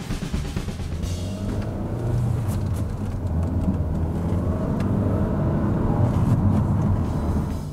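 A Kia Sportage with a turbocharged 1.6 litre petrol engine drives along, giving a steady low engine drone mixed with road and wind noise that swells slightly as it goes, with no talk.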